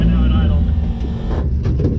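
A Datsun drag race car idles roughly and lean, a loud, dense low engine rumble that stays steady and close throughout with a slight waver near the end.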